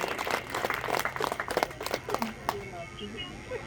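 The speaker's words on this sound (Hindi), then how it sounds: "एक बार हमारे महीप भाई के लिए, पूरी आयोजन समिति के लिए और अपने लिए आप लोग तालियां बजाइए" Audience applause for the organising committee at a Hindi poetry gathering (kavi sammelan), fairly brisk clapping that thins out and tapers off after about two and a half seconds, with voices audible alongside it.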